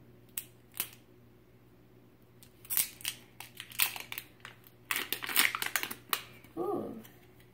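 Tear strip being pulled on the plastic packaging of an Easter basket, a series of sharp crinkling rips and crackles in irregular bursts, close up, with faint voices in the background.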